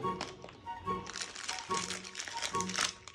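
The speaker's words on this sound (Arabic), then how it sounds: "ده كيس شيبسي بالفراخ" A chicken-flavoured potato chips bag crinkles in repeated rustling bursts, close and fairly loud, while a voice talks over it.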